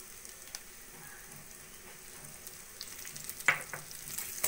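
Prawns cooked with coconut, mustard paste and mustard oil are stirred in a pan, giving a low steady sizzle with soft scraping of the spoon and a sharper clatter near the end.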